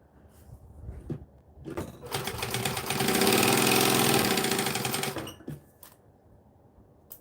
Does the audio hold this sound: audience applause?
no